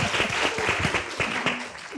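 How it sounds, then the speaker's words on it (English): Audience applause during a panel on women challenging industry stereotypes, a sustained patter of many hands clapping, fairly close and even, with a few individual claps standing out. "yes, please applaud."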